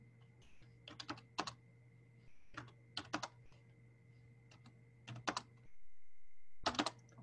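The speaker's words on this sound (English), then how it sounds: "I'm gonna type in the data while you're thinking" Clusters of quick keystrokes on a computer keyboard as data is entered, arriving in short bursts with pauses between them, fairly close and clear over a steady low background hum.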